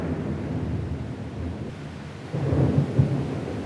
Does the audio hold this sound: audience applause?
no